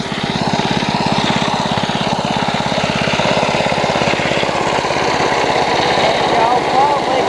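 A running lawn mower engine, loud and close with a steady rapid putter that continues unbroken throughout, with no talking heard over it.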